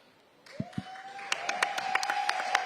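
An audience at a city-wide budget forum breaks into applause after a few sharp claps, the clapping building into steady, dense applause with scattered loud claps and a sustained tone beneath it, fairly close.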